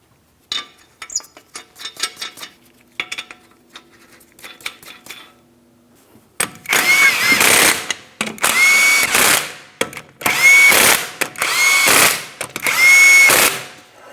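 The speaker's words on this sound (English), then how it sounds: "go ahead and start on all 5 of your 21mm lug nuts" Lug nuts, 21 mm, being run onto a 2015-2025 Ford Transit 250 front wheel: quiet ratcheting clicks at first, then loud bursts of a power tool spinning on and off in several long pulses.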